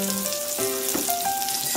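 Tofu hamburger patties with vegetables and oatmeal fry in a home pan, giving a steady, close sizzling hiss with some faint tonal background sound.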